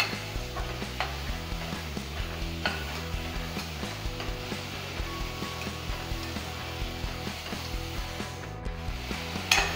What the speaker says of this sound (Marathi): मशरूम 1 मिनिटभर परतून झालेले आहेत